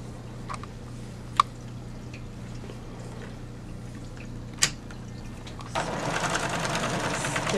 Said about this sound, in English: here's where you want to use the free arm on your sewing machine